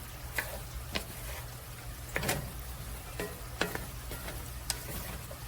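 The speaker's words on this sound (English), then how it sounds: "let's give this a stir" Autumn hash fries in a pan with a steady, close sizzle while a spoon stirs it, scraping and tapping against the pan in a loose, irregular rhythm, with no talking.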